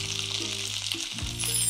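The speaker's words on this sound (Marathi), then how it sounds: "आता 1 चमचा तेल गरम केलंय, यामध्ये सगळ्यात आधी ढोबळी मिरची घालूया।" Green bell pepper hitting a spoonful of hot oil in a pan gives a short, steady sizzle, mixed with background music.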